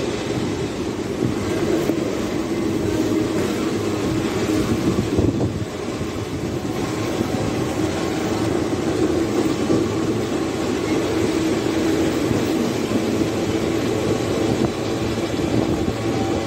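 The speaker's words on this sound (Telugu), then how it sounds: "Our train is moving towards Vadodara Junction now." Passenger train 20967 rolls steadily toward Vadodara Junction in India, a continuous loud low rumble with faint wheel clatter and wind noise heard from inside the carriage, no talking.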